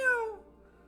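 A single short cat meow from a video game, clear and close, falling in pitch and fading out quickly, with no talk.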